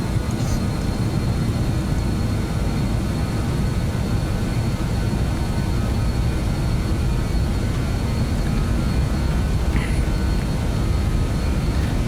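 A BAE 146-300 jet rolling for takeoff in MSFS 2024, a steady, loud, continuous engine roar with rumbling low end that holds evenly throughout.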